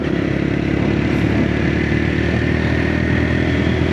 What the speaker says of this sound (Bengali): বাইক রাইড করে খুব মজা পাওয়া যায়